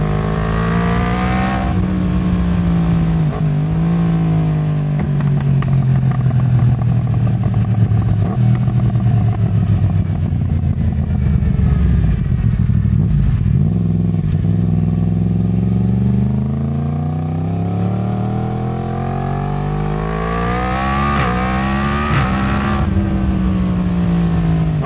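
A Yamaha MT-10 SP motorcycle engine revs loud and close, its pitch climbing and falling in long sweeps as the bike accelerates and slows, then surges again near the end.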